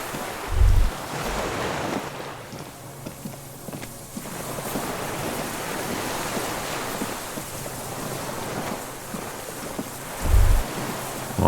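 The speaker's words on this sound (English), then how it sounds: "The distant sound of cargo ships." Distant cargo ships and low signal horns echo across the water on a beach in Disco Elysium, with steady surf and wind and two brief deep horn blasts near the start and end.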